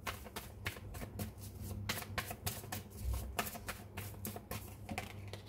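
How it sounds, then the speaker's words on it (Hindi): Tarot cards being shuffled and drawn, a quick run of crisp, soft riffling taps and flicks, close and fairly quiet, with no talking. "एक बार यहाँ से भी कुछ कार्ड्स निकाल लेते हैं और देख लेते हैं क्या आता है।"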